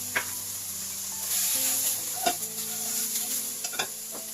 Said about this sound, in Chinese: 撒入胡椒粉，再放入胡萝卜片煸炒